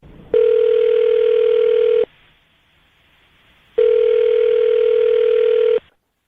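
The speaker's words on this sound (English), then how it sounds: "I'm going to dial his phone number right now" A phone call ringing out after a number is dialed: two long, steady, loud ring tones, each about two seconds, separated by a short quiet pause.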